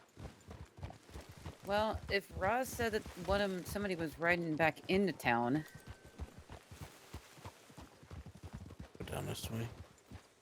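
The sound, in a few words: horse hooves clip-clopping in a video game (The Ranch RP)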